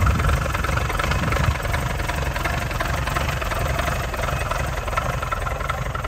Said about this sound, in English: Love the sound of a rattly cam.